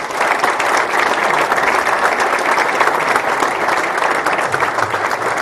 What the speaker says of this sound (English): is that the first time a referee's ever had a round of applause?